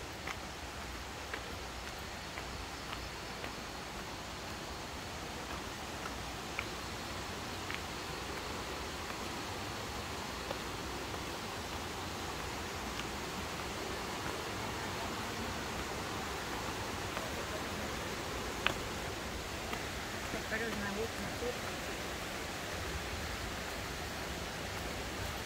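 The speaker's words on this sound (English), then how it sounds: "Sound of water's getting closer." A steady, broad rush of falling water from Curtis Falls, heard from some distance as a constant even wash of noise, with faint scattered clicks and no talking.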